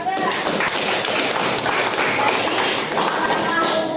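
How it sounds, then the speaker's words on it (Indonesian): A class of eleventh-grade vocational high school students bursts into loud, dense applause, a continuous patter of many hands clapping close by that fills the room for several seconds. "Tepuk tangan buat Saudara."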